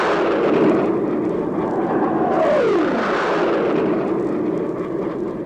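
An airplane taking off is staged as a radio drama sound effect: a loud, continuous engine roar builds and sweeps downward in pitch before easing away, with no voices over it.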